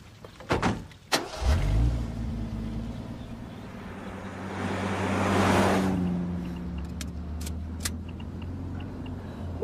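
A car starts and pulls away in an action movie scene, with door and key-like clunks at the start, then a rising engine surge that swells and fades, followed by sparse clicks.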